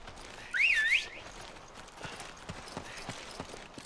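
A rising and falling whistle in the video game Resident Evil 5, one short melodic call early on, followed by light footstep-like clops and faint background sounds.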